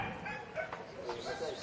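A dog barks and yips a few times in short bursts, fairly close, mixed in with people talking over it.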